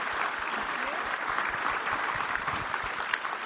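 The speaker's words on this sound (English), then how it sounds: "I think a round of applause for the last panel." Conference audience applauding a plenary panel on Earth observations, a steady, moderately loud round of clapping from a large room that continues without pause.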